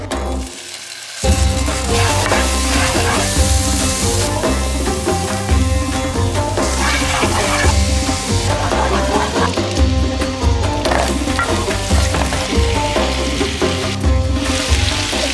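Paneer frying in oil with salt, chili powder and turmeric, a steady close sizzle and crackle of spattering oil that runs continuously, with busy clatter and stirring on top throughout.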